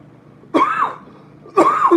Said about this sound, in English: that's when the cough comes up more